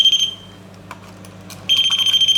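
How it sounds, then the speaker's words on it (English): Ghost-hunting detector with an aerial emits a loud, steady high-pitched electronic beep for a fraction of a second, falls quiet, then sounds again and holds the tone continuously to the end. "it makes a beeping noise, just like that."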